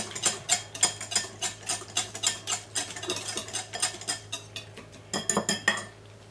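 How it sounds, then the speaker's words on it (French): Beef marinade of soy sauce and olive oil is stirred briskly in a bowl, with a quick run of bright metallic clinks and scrapes from a utensil striking the sides, close and fairly loud. "On va mélanger cette marinade."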